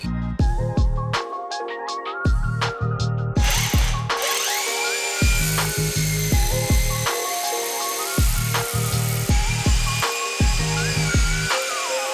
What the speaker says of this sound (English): the way to drill a hole through the wall, a big wall, is you start with a small drill